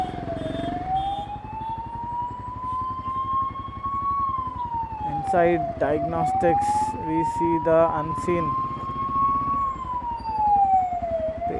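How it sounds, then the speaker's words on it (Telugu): An ambulance siren wails in rising and falling sweeps as it passes through road traffic, loud and close over engine noise, while people talk over it in the middle. "ఒక సెకండ్ ఇక్కడ పక్క క్యాబ్ నుండి వెళ్ళిపోతున్నాగా అంబులెన్స్"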